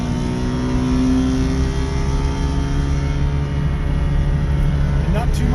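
A smoky two-stroke car drones loudly from close range as it pulls through its gears on the road, a sustained buzzing engine note that holds steady and climbs slightly.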